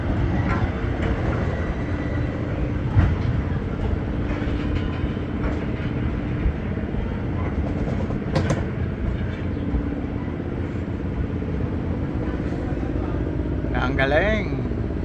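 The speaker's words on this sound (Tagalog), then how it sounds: "Ito ho ang tren ng Bicolandia," The Bicol Express passenger train in the Philippines rumbles past nearby with a continuous heavy roll and clatter of wheels on track, steady and loud the whole time.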